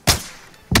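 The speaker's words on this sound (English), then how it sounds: "Great shot through the tree line right now." Two loud, sharp sniper rifle shots ring out in the battle-royale video game Warzone, about half a second apart, each with a short booming tail.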